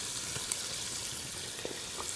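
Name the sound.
chicken gizzards frying and splattering in grease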